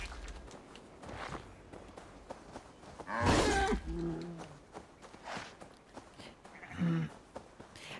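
A cow lowing in the video game Assassin's Creed Valhalla, one loud, drawn-out moo near the middle and a shorter one later, set among footstep-like game sounds and ambient noise.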